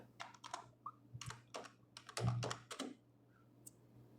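Python code typed on a computer keyboard, quick clusters of crisp close key clicks with short gaps, quiet and alone over a faint steady hum.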